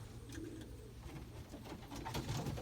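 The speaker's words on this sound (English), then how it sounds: "these are exceptionally good racing birds" Racing pigeons, a loft of red birds, coo softly in low repeated throaty calls over a constant background hum, faint and close with a few brief sharper sounds, no speech.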